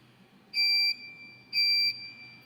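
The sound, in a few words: water tank empty alarm buzzer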